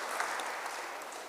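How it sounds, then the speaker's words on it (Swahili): Congregation clapping for a child during a Kikuyu church service, steady dense applause filling the room from start to finish without a break. "Haya, tumpigie makofi."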